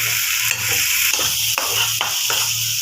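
Masala spice paste frying in hot oil for a prawn and poppy-seed curry, a loud close sizzle with a few stirring scrapes and taps against the pan, no voices.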